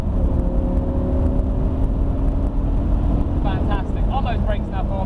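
An Audi R8 V10 Convertible engine pulls hard after an upshift, a loud steady roar with rising tonal whine under wind and road noise, while a voice talks over the drive.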